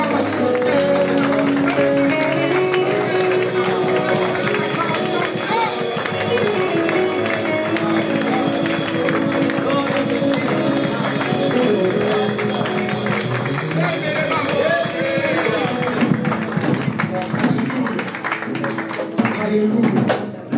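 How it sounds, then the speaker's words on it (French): A worship congregation at a French-language prayer gathering applauding and cheering steadily and loudly throughout, a dense wash of clapping and voices with music underneath. "j'aimerais qu'un adorateur puisse exprimer sa reconnaissance avec des applaudissements"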